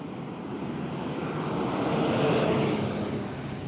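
A drone flying overhead near cliffs, a steady, loud whirring engine drone that swells slightly and fades, with no voices.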